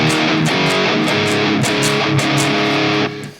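Electric guitar played through a distortion pedal into a clean Archon amp, loud sustained chords with gritty fuzz, a few strummed changes, then ringing out and fading at the end.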